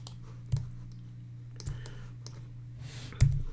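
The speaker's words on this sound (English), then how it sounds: "I'm going to hit J on my keyboard" Sharp key presses on a computer keyboard during 3D modeling work in Fusion 360, three distinct clicks spaced about a second apart over a low steady hum.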